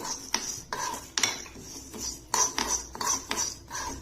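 A spoon scraping and clinking against a pan while stirring fenugreek seeds and curry leaves roasting over low heat, a steady run of close, bright metallic scrapes and taps.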